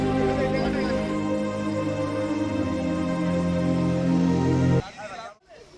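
Ship passing on a river near Belari Char, heard as a steady low engine rumble and drone with water rushing alongside, loud and continuous before cutting off near the end.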